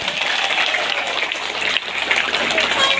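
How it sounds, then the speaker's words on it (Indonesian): Applause from a church youth gathering, dense steady clapping from a crowd filling the room, loud and continuous with a brief dip partway through. "Tepuk tangan untuk itu."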